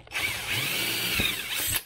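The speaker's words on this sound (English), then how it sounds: "I'm going to use a smaller hole first, and I'm going to drill that out just dead center." A power drill bores a small pilot hole through the center of a workpiece for a DIY rod holder, a close, loud whine that rises and holds steady for under two seconds.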